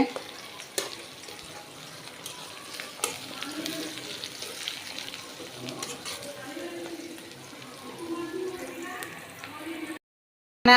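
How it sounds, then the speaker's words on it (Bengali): Onions fry and get stirred in a pan, with a steady soft sizzle and occasional scraping clicks, fairly faint and close, ending in a short silence. "আমি পেঁয়াজটা বসায় দিছি, তো এখন আমি এগুলো সব কিছু কষিয়ে নেব।"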